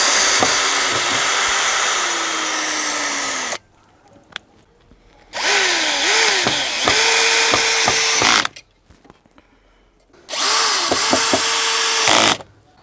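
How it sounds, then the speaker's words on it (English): A Bosch Professional GSB 18V-21 lithium cordless drill set to speed 1 in screwdriver mode drives a screw, whining in three close, loud bursts that rise and dip in pitch, separated by short quiet pauses. "For this type of job, I'm using speed 1 and screwdriver function."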